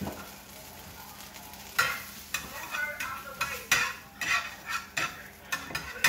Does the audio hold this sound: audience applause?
no